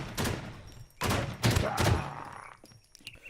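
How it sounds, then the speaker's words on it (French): Gunfire in the video game Infestation comes as a few loud, separate bursts of shots at close range, with a fading tail after the last one and no talk over them. "Ah, ça tire."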